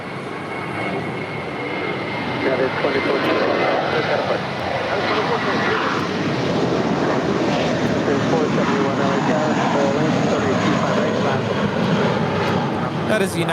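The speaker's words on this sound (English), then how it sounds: "All Nippon Airways Flight 5 now departing there on the north side to Tokyo Narita. It's a" An All Nippon Airways Boeing 777-300ER departing LAX on the north side, bound for Tokyo Narita, gives a steady, loud, broadband jet engine roar that holds for the whole stretch without fading.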